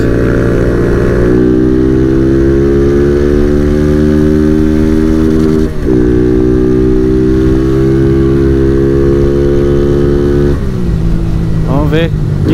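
Honda Fan 160 motorcycle with a KS performance cam, 15:38 gearing and KS exhaust revving loud and close through the gears, its pitch climbing steadily in long pulls with brief drops at each shift.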